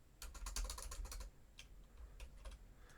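Quick, crisp keystrokes on a computer keyboard while entering Python code, a dense burst of clicks followed by a few scattered taps, faint and close with no talking.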